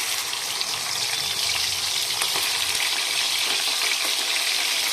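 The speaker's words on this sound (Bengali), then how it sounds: "এখন এই চিকেনগুলো ভেজে নেব।" Chicken pieces fry in hot oil in a kadai wok, a loud, steady, dense sizzle that continues unbroken throughout with no talking.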